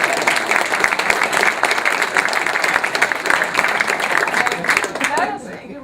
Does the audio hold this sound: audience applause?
yes